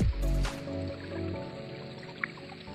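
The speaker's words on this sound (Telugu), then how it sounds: "వాటర్ సౌండ్ భలే వినబడుతుందన్న." Water trickling and dripping in rocky natural pools at a hillside temple site, a steady wet splashing with a louder squishy burst near the start, heard close and alone.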